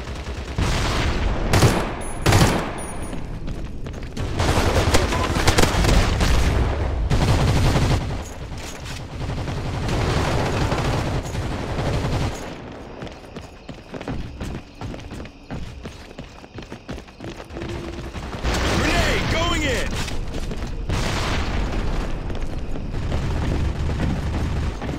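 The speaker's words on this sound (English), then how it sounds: "Watch it! Grenade!" A grenade explosion and gunfire in the CrossfireX shooter on Xbox Series X: repeated loud booms and rapid rifle bursts, close and heavy, with mechanical clanks and short gaps between volleys.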